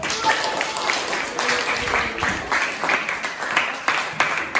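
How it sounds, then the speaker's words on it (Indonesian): A classroom of students claps during a teaching performance assessment, uneven bursts of applause with voices mixed in underneath. "kasih tepuk tangan dulu"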